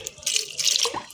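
Water trickles and splashes briefly into a bowl of homemade feteer dough, a short wet pouring sound heard alone.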